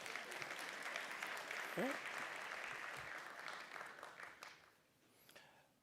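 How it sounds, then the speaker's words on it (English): Applause at a nursing college graduation ceremony for Dr. Kelly, a hall full of steady clapping with a few voices under it, fading out toward the end. "Let's give Dr. Kelly a round of applause"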